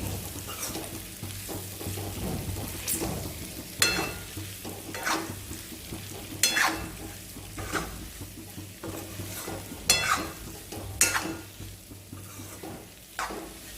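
Potatoes sauté with onion and spices in a pan, a steady sizzle broken every few seconds by loud scraping stirs of the spatula, close by and without speech.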